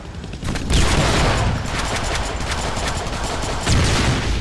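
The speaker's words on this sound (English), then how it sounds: "That's a big gun." A big gun in the Deadpool video game fires rapidly in a dense, loud barrage of blasts and booms that fills the whole stretch without a break.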